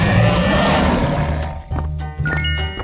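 A dinosaur in a 3D animal video game lets out a loud, gritty roar that fills the first half, then fades into lighter game jingles and chimes.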